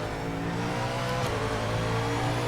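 A Ford Mustang race car in the racing game Project Motor Racing holds a steady, deep engine drone at sustained revs, a dense continuous rumble with no voices.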